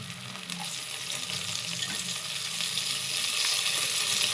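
Onions with ginger-garlic paste and fresh coriander sauté in a pan, giving a steady, close sizzle with soft stirring scrapes that swell a little toward the end, no voices.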